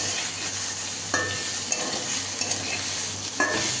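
Potatoes and soybean chunks fry in a pan with turmeric and salt over low to medium heat, giving a steady close sizzle broken by a few soft stirring scrapes and clinks.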